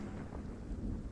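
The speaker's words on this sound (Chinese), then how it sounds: "外面下雨，记得打伞。" Steady rain falls outside, a soft continuous hiss with low rumbling beneath, faint and without voices.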